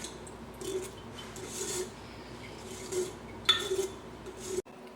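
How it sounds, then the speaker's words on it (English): A utensil scrapes and clinks around a bowl while pineapple hot sauce ingredients are stirred together, with soft rubbing strokes and a few sharper metallic taps, fairly quiet and close, no voices. "you want to mix it around so you get all that juice out"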